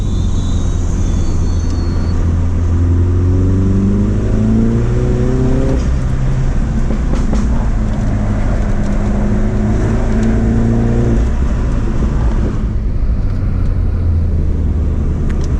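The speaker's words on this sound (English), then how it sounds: "whenever I shift gear, you just hear that sound off from the motor" A tuned F56 Mini Cooper JCW engine revs and accelerates hard uphill, its pitch climbing and dropping through gear changes, loud and close with steady road rumble underneath.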